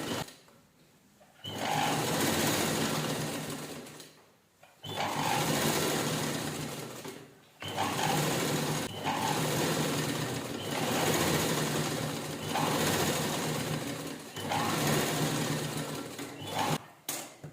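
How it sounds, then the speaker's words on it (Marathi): A sewing machine stitches around the folded edge of a fabric shopping bag, its steady motor whir running in long loud bursts separated by short pauses, with no talking. "डबल फोल्ड करायचं आणि पूर्ण राऊंडला आपण स्टिच करून घेऊया एकसारखं असं आतल्या साईडला"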